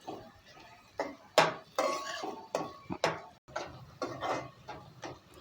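A spoon scrapes and clinks against a pan in a steady series of rhythmic strokes while onion whites and cumin are stirred, each knock close and distinct with little sizzle beneath.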